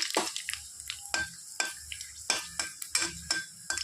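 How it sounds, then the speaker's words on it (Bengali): Black cumin and a dried red chilli hit hot mustard oil in a pan, giving a string of sharp crackles, pops and light utensil clinks at an irregular rhythm, close and fairly quiet, with no talking. "তেলটা গরম হয়ে গেছে তেলের মধ্যে দিয়ে দিব কালো জিরে একটা শুকনো লঙ্কা"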